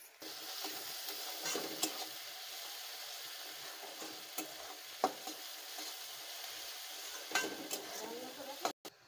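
Chopped ginger and garlic sizzle in a pan for chicken curry, a steady hiss with occasional scrapes and clinks of a stirring spoon, close and continuous with no talk.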